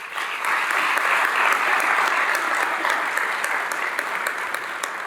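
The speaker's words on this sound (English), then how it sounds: "Can we please give them another round of applause?" Loud, sustained applause from a large crowd at a naturalization ceremony, dense and even throughout, tapering only slightly toward the end.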